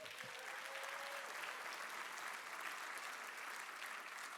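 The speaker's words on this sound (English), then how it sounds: "Give their staff a round of applause." Steady applause from an audience fills the whole stretch, dense and even, with a faint whistle-like tone early on.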